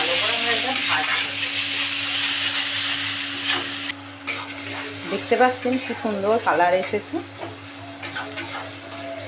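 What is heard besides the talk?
spices with chilli powder frying and being stirred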